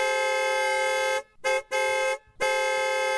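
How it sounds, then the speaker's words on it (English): A car horn honked into a drive-thru microphone, sounding as a loud, harsh, sustained blare broken into several blasts with short gaps, close and alone without talk. "People would honk into the microphone and blast our ears"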